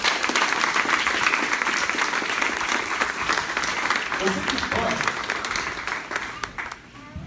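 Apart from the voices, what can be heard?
church congregation applauding the Lord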